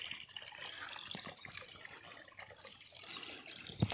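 Irrigation water flows along a channel in a groundnut field. It makes a faint, continuous trickling and gurgling, heard at a distance without talk.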